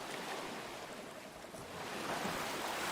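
A character swims through water in the video game Nightingale, with a continuous washing, surf-like rush of water and wind that is steady and fairly loud, swelling slightly toward the end, with no voices.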